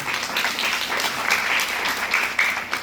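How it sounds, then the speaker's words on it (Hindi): Hearty applause from an audience at a book launch in Jammu, steady, close and fairly loud for a few seconds with light cheering tones mixed in. "मुझे लगता है हमें मिलकर इनके लिए जोरदार तालियां बजानी चाहिए"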